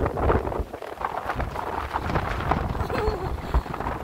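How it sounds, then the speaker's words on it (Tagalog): Strong wind roars and buffets the microphone in a constant rumbling rush, with faint background sounds beneath it, at a farm in Banate, Iloilo. "Sobrang lakas ng hangin dito."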